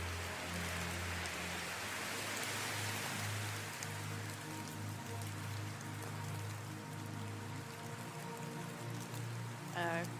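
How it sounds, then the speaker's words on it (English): Steady rain pours over a jungle at night, a continuous even hiss of drops with no break, moderately quiet and unaccompanied by voices. "go to one of the openings and look out on the rain over the jungle"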